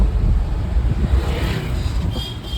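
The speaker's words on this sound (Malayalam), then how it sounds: "ക്ലച്ച് ഫുള്ളി ഔട്ടാൻ പറ്റാത്തതുകൊണ്ടാണ് ഗിയറിൽ കിടന്ന് ബലം പിടിക്കുന്നത്" Car engine labouring in gear while the clutch is not fully released, during a driving lesson; a low, steady rumbling drone with some wind noise, close and continuous.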